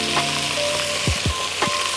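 Brinjal pieces slipped one at a time into hot oil with onion, giving a steady close sizzle broken by a few sharp low splashes and crackles as each piece drops in.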